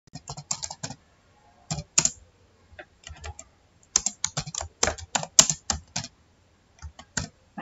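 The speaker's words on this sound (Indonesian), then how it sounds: "Ini kita akan kita ketikkan di sini ya" Typing on a computer keyboard while filling in a travel schedule: close, crisp key clicks in irregular bursts with short pauses between, clear against a quiet background and no talking.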